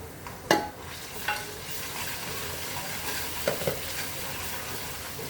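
A spice paste of green chilli, ginger, garlic, cumin and sambar masala fries in a pan, a soft steady sizzle broken by a few stirring scrapes and clinks.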